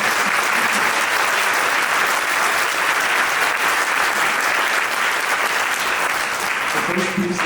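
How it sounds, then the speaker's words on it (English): Concert audience applause for a county honor band fills the hall in a loud, sustained wash of clapping, with a voice starting to speak just as it ends. "So please give them a round of applause."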